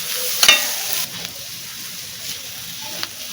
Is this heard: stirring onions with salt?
yes